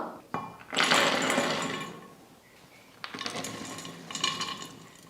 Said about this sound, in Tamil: மிக்சி ஜாரில் போட்டு முந்திரி இந்த மாதிரி நைஸாக அரைச்சி எடுத்துக்கிட்டேன்